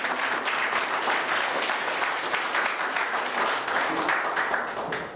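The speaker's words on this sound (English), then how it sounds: "Give him a round of applause." Audience applause at the ribbon cutting ceremony for the YMCA Aquatics Center in Pikeville, steady, dense clapping from a sizable crowd that fades slightly near the end.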